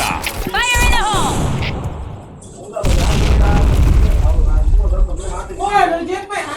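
A loud grenade blast in a shooter game, a sudden heavy boom that cuts in midway and rumbles on, with chattering voices and game sounds around it.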